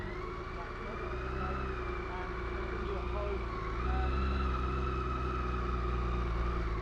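A 2023 BMW K1600 Bagger motorcycle's six-cylinder engine runs with a smooth, quiet low hum and a steady drone, swelling slightly partway through, while people talk over it.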